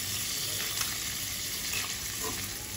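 Cubes of paneer frying until golden brown in a pan for palak paneer, giving a steady, close sizzle with faint stirring scrapes throughout.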